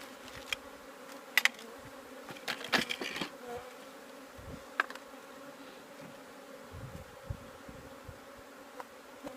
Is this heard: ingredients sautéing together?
no